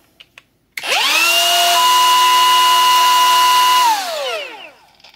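Faulty Milwaukee M18 Fuel die grinder with an internal rub spins up sharply to a loud, steady high-pitched whine, holds for about three seconds, then winds down, heard close and alone.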